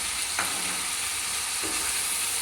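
Spices and chopped tomato sauté in a pan for prawn pulao, a steady, close sizzle with a couple of brief scrapes of stirring, and no talk.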